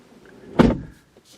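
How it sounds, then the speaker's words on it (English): Car door of a 2019 Ford Edge Titanium opening, a single short close clunk of the latch, followed by a faint rustle. "Open the door, I get out."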